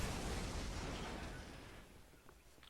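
Tempest artillery destroying bombers in the Grey Goo strategy game, a low rumbling blast that rolls and fades away over a couple of seconds, ending in a small faint pop.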